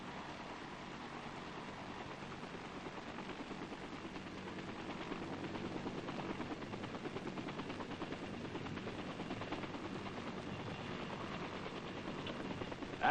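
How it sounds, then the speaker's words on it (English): Army helicopters, H-21 troop carriers in Vietnam, circle in flight, giving a steady, dense rotor and engine roar that swells slightly louder midway and holds continuously with no talk. "The 5 tough little choppers circle to take their places as protectors of the air fleet"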